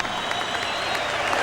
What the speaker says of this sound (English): how about a round of applause for these two heavyweights